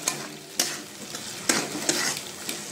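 Spice mix with raisins, cashews and pre-fried potatoes stirred in a pan, a low sizzle broken by a few sharp scraping strokes of the spoon, close by and without voices.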